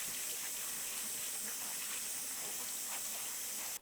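Noodle ingredients rinsed quickly under a running kitchen tap while making meat udon, a steady close hiss of water pouring without a break, which stops abruptly at the end with no talking.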